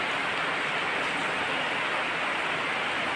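Steady, even hiss of rain falling continuously, with no voices or other distinct sounds over it.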